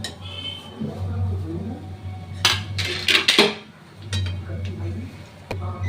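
Grated coconut being mixed into a khajur pak date mixture in a pan, with a short cluster of spoon-on-metal scrapes and clinks midway, under someone talking.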